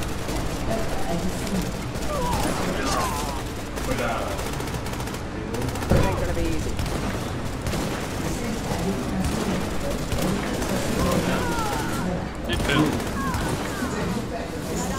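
Rapid gunfire in The Division during the Grand Central Station mission: sustained automatic bursts and scattered single shots crackle throughout, loud and close, while voices talk over the firefight.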